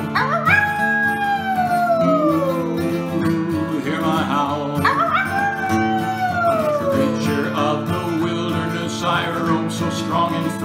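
A singer imitates a wolf with long, sliding howls that rise and fall, repeated twice over sustained instrumental backing.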